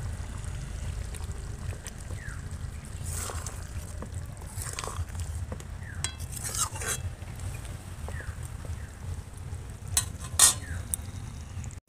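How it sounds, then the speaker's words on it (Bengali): Chicken curry with coriander leaves being stirred in a pan, with intermittent scraping and clinking of the spoon over a low background rumble, heard alone at moderate distance. "ধনেপাতা দিয়েও আমি ভালো করে মিশিয়ে নিচ্ছি।"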